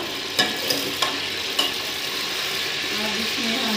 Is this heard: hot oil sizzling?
yes